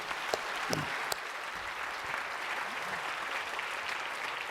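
A church congregation applauds to congratulate an elder, a full, sustained round of clapping from many people, with a few sharper claps standing out near the start.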